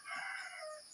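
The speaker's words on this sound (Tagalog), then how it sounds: "Manok nila." A rooster crows once, close and clear, at a family house in Bicol, Philippines, with no talk over it.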